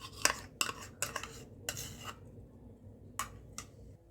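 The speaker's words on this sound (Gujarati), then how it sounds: "હવે તેમાં આપણે વધેલું ઘી એડ કરી દઈશું." A metal spoon clinks and scrapes against a cooking pot as ghee is stirred for a laddoo base, giving a series of sharp, quiet clatters spaced irregularly and heard close with no talking.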